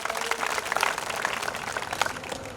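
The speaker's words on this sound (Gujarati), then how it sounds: "જોરદાર તાળી" A crowd at a religious festival gathering applauds a donor, quick scattered claps blending into a moderate, fairly distant patter for a couple of seconds.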